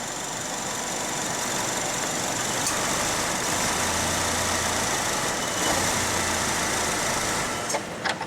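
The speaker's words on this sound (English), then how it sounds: "it's stalled out" A Chevrolet Malibu engine with an intermittent stumble runs rough and uneven at idle, close by and steady in loudness, before it stumbles toward a stall. No one speaks.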